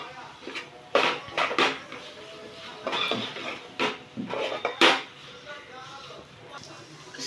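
Tomato sauce is mixed into egg roll curry in a pan, with irregular clinks and scrapes of a utensil against metal, some sharp and close, separated by quieter stirring.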